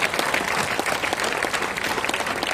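An audience at a district-level school science exhibition in Khammam claps for the district collector, a steady, fairly dense round of applause from a crowd, moderately loud and continuous throughout.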